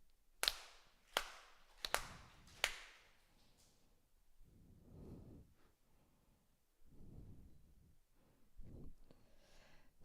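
Four sharp ceremonial hand claps at a Konko Shinto service, evenly spaced and crisp in a quiet room, followed by soft murmured speech.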